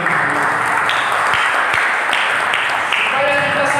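A church congregation claps for God, a dense, continuous wash of applause with voices and cheering mixed in.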